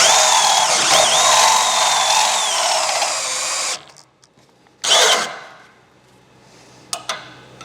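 A cordless power drill runs loud and steady for nearly four seconds while tapping a thread during a van build, then stops; a short second burst and a couple of faint clicks follow.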